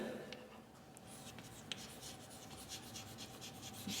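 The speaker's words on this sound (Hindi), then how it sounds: "अभी मैं लिखता हूं यहां पे" Chalk or marker scratches and rubs across a board in a teaching setting, with short faint strokes and taps continuing at a steady pace under a low background hum.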